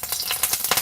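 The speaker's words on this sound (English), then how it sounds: "We just still want the sizzle, but we don't want it to" Crackling sizzle of food frying in hot oil, steady and close, with small pops scattered throughout.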